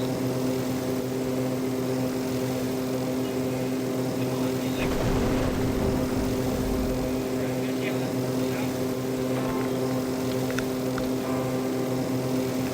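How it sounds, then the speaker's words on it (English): A loud, droning plane engine from the Extreme Landings Pro flight simulator game hums steadily and continuously, with a short swell of rushing noise midway. "This plane's pretty loud."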